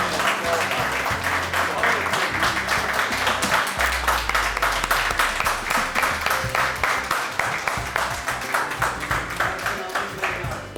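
Audience applause at a Mehfil-e-Mushaira poetry gathering at a club, a steady sustained roll of many hands clapping that carries on loud and unbroken, with rhythmic waves of clapping throughout.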